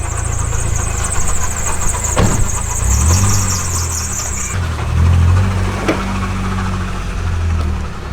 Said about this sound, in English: It stops squeaking when you drive.